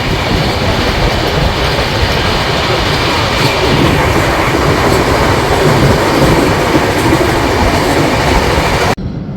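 The Dhauli Express running at speed after Balasore, seen from an AC chair car, a loud continuous rolling roar with rhythmic wheel clatter and faint squeals, cutting off abruptly at the very end.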